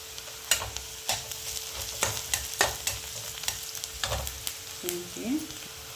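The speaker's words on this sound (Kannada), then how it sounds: "ಈರುಳ್ಳಿ ಬ್ರೌನ್ ಕಲರ್ ಬರುವ ತನಕ ಕಾಯಿಸಬೇಕು" Onions sizzle and crackle in a hot pan, with repeated scraping strokes of a spoon stirring them at a steady rhythm.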